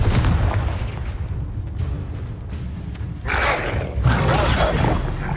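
Confringo fire spell in the video game Hogwarts Legacy bursts out as loud booming blasts over a busy, continuous combat soundscape, with two stronger explosive surges following each other late in the clip.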